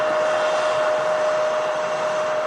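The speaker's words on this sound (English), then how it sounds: "777-300ER kicking the show off today. That heat coming from the exhaust there." A Qatar Airways Boeing 777-300ER takes off at Manchester Airport with a loud, steady jet-engine roar and a sustained whining tone, unbroken and close throughout.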